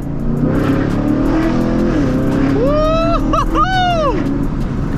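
A Camaro SS with a Corsa exhaust revs up twice in quick succession, a rising throaty roar over steady engine rumble, with voices talking underneath.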